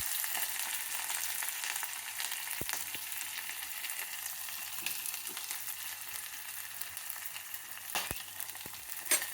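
Onions and green chillies sizzle steadily in hot oil with popped mustard seeds, a constant close hiss broken by a few sharp crackles and clicks, with no talking.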